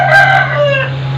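An Aseel rooster on a farm lets out one loud, close crow that rises and then trails off, with a steady low hum underneath.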